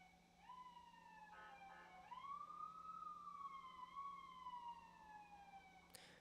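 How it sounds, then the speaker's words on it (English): An ambulance siren wails outside, faint and distant, its tone sliding slowly up and down in a long sweep over a low steady hum indoors. "Damn ambulance."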